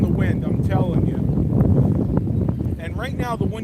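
Steady roaring wind buffeting a microphone while riding a bicycle outdoors, loud and continuous, with someone talking over it.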